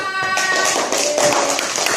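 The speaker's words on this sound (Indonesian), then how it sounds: "tepuk tangan untuk kita semua" Classroom applause from students, a burst of close, brisk hand clapping that fills the short span with some voices under it.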